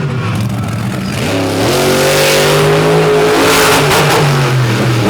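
A Crustacean race car driven by Matt Pagliarulo on qualifying laps at Benson, North Carolina, roars loud and steady at full throttle, its engine note climbing in pitch partway through, with no talk over it.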